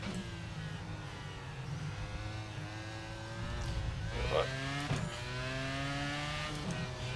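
Dallara IR-01 race car engine in iRacing, a continuous high-revving whine that climbs through the gears, dropping and rising again with shifts, loud and close throughout.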